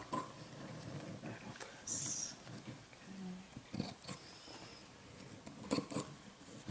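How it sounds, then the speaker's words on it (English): Scissors snipping and trimming through denim fabric, a few soft irregular cuts close by amid rustling and handling noise, with brief background sounds. "got my scissors now. Just trim around where I already cut."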